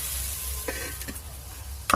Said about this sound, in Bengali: হলুদ গুঁড়ো একটু চাপা দিয়ে ভালো করে ভেজে নেব।